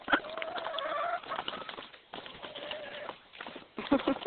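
A flock of tropical fowl, chickens and ducks gives soft, repeated cooing and clucking calls from close by over a busy outdoor background, with no talking.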